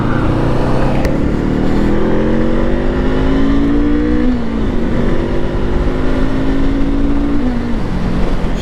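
A Honda SCL500 motorcycle engine revs loudly and close, its smooth twin-cylinder tone rising in pitch, easing off, then climbing again in a continuous run with no talk over it.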